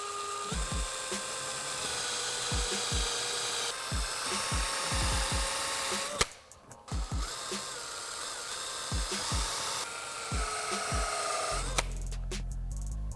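A power drill with a step (uni) bit whines steadily as it bores 3/8-inch holes in the bumper of a 2010–2012 Mustang, a close, high sustained grinding with a brief pause midway and faint rhythmic knocks underneath.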